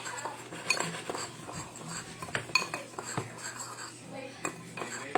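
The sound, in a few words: mixing seasonings in a bowl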